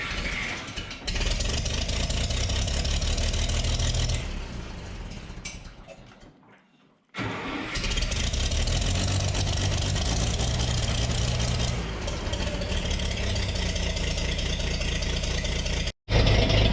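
An old engine on vintage hay equipment starts and settles into a steady, loud idle with a mechanical clatter, briefly dropping out mid-clip before running on close to the microphone, with no talking.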